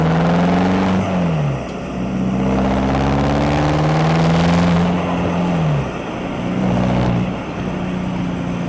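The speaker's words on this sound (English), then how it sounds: "Little 4-cylinder, but in this shape with the DPF delete kit in the tune is really quite enjoyable to drive." A Volkswagen TDI with a 2-liter four-cylinder diesel engine, DPF-delete kit and tune, driving along with a steady engine hum that rises and falls in pitch as it shifts gears, heard from inside the car without talking.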